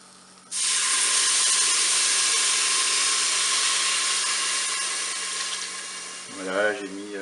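Water rushes in a loud, steady stream over rice in a Cookeo multicooker pot for about six seconds, then tapers off into a brief wavering gurgle.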